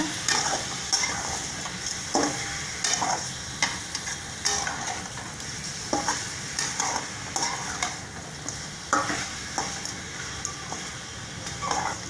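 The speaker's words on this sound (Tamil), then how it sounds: "இப்போ நல்லா கலந்து விட்டுக்கோங்க" Chicken gravy stirred in a pan, a steady sizzle under repeated scraping strokes of a spoon that come every second or so, close and fairly loud, with no talking.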